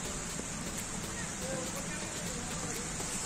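Light rain falls steadily in a rural setting, a soft even patter and hiss under faint talk.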